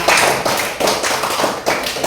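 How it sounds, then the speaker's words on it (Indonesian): A classroom audience at an Indonesian social studies lesson claps, with loud, close, rhythmic bursts of hand claps repeating about every half second. "tepuk tangan untuk semuanya"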